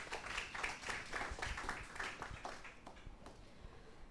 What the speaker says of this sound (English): May we give her a round of applause